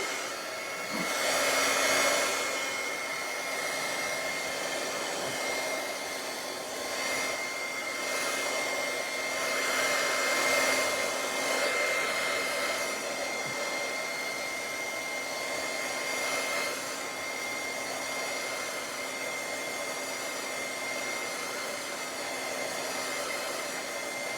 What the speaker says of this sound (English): I'm going to grab my heat gun